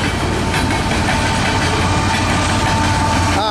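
A CN eastbound manifest freight train rolls past near Battle Creek, Michigan, with a loud, continuous rumble of cars and wheel clatter close by.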